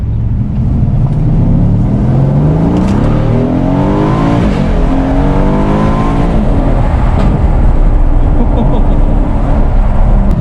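A 2018 Aston Martin DB11 V8 engine hums and rises in pitch as the car accelerates, steady road noise throughout, heard from inside the car.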